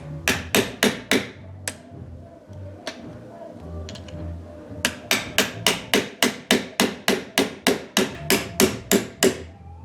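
Repeated hammer-like taps on a socket drive a plastic shifter bushing into place during an LS engine swap, coming in quick bursts with a short pause midway before a steady run of about a dozen sharp, close strikes.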